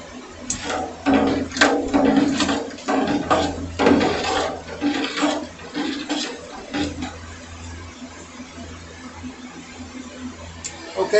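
Ingredients stirred into water in a pot for moonshine mash, with irregular scraping and sloshing strokes that are louder early on and quieter later, over a low hum.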